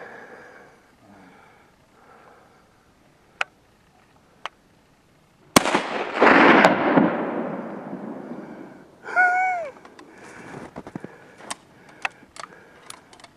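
Mosin Nagant 91/30 rifle fired outdoors in snowy terrain, a sharp loud shot with a long echoing tail, followed by a bolt cycling and distant faint cracks.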